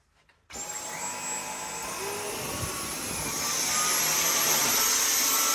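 A Dyson stick vacuum whines up to full power and sucks up a pile of pet fur, its high motor pitch rising steadily and loud from start to end.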